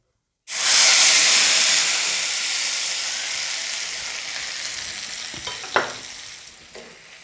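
Ground tomato purée hits hot oil with a sudden loud, steady sizzle and hiss that slowly fades, with a few faint clinks of stirring toward the end.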